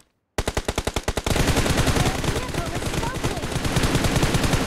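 Automatic gunfire in the video game PUBG: a quick burst of evenly spaced loud shots opens, then merges into sustained rapid fire that continues at close range to the end.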